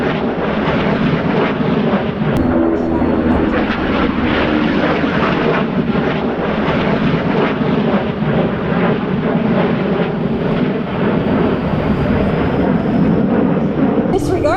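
A B-2 bomber and a B-29 Superfortress flying a straight and level formation pass at an air show at Whiteman Air Force Base, a sustained heavy rumbling engine roar mixed with crowd and announcer noise.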